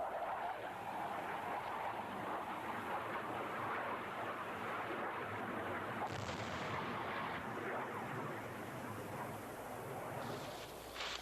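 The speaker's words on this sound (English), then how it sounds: "The airstrikes and the artillery pound the hill throughout the night." Airstrikes and artillery pounding a hill during the Vietnam War, heard as a steady, distant rumbling roar of blasts blending into a continuous low wash of noise throughout the night.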